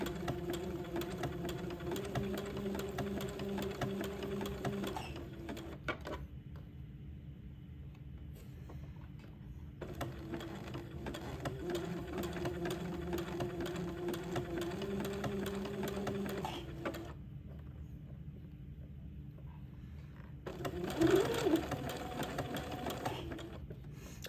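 A sewing machine stitching a baby girl's layette runs in steady whirring stretches, stopping twice briefly before starting again, fairly close and with no talking.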